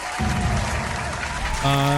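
A game cheer effect in Dune Imperium Digital plays as a loud burst of clapping and crowd applause, ending in a bright sustained chime, with no one talking over it.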